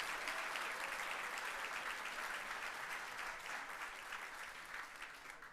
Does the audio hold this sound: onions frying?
no